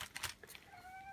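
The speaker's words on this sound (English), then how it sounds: "I'm sorry for my cat that you hear in the background" A cat meows once in the background, a short rising cry after a few soft bumps and rustles, heard fairly close and moderately loud, indoors.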